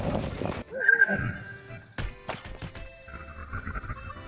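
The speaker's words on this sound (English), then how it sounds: "A skeleton horse?" A skeleton horse in the video game Zelda Breath of the Wild lets out a whinny among game effects, with hoof clops and sharp clacks following, brief and moderately close.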